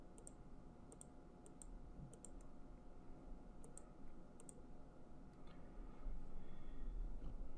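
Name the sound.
computer mouse right clicking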